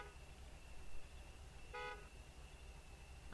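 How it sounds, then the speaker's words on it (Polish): Truck horn honking in the off-road driving game Spintires, one short harmonic blast of about a fifth of a second over a steady low engine rumble. "A, trąbię, dobra."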